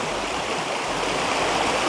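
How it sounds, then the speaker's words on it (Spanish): A clear mountain river rushes by in rural El Salvador, a dense, continuous roar of flowing water, loud and close, with no pauses or voices. "se ve que este río pues baja de pura montaña de arriba"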